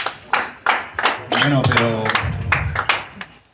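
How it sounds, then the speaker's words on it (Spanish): Audience clapping in bursts at a Ciudad Bolívar family celebration, close and fairly loud, mixed with a voice speaking in Spanish over it. "El aplauso"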